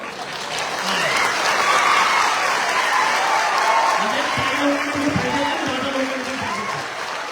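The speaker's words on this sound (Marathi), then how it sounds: "आणि टाळ्या वाजवा, जोरात बोला." A lecture audience claps loudly together for several seconds, a dense, steady applause that swells and then tapers, with a few voices calling out beneath it near the end.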